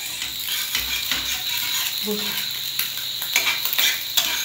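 Egg frying in a pan for fried rice, a steady hiss of sizzling oil with scraping and stirring clicks of a spatula against the pan, no voices.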